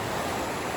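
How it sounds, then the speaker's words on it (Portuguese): Rushing water near the Poço Fundo waterfall on Ilhabela, a steady broadband roar of falling water heard from close by, alone and unbroken for under a second. "Já dá para ouvir o barulho da água"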